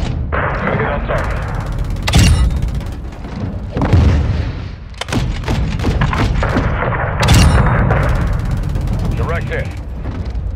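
Heavy booms and thuds of artillery fire in the multiplayer shooter Call of Duty Modern Warfare 2, several loud impacts spread over a dense, continuous game soundscape with scattered gunfire.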